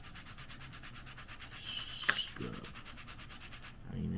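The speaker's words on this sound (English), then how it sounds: "So you got your brush, and you're just gonna scrub." Brush scrubbing a SNES controller, a rapid, steady back-and-forth rubbing rhythm close up and fairly quiet, with a brief knock near the middle and soft handling noises toward the end.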